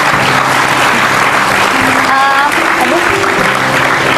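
Loud, continuous applause from a studio audience on an Indonesian talk show, steady dense clapping throughout with a person's voice exclaiming and talking over it.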